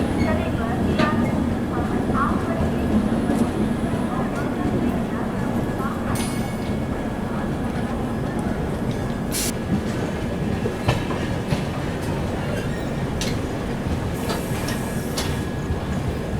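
The Duronto Express rolls out of Bilaspur station after a halt, a loud, continuous rumble of wheels on rails with clickety-clack beats and occasional metallic squeals, heard from on board. Voices are faintly audible in the background.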